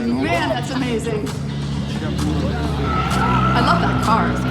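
Loud skidding and tire squeal from a Red Bull RB7 Formula 1 car doing a street show run in downtown Minneapolis, the engine wailing and wavering continuously while an announcer talks over the din.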